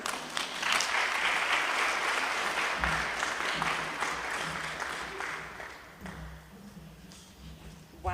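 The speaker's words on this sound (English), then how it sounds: "I think we need to give that another round of applause." Audience applause at a G20-UNESCO event on women and girls in science: sustained clapping from a crowd that gradually thins and fades toward the end.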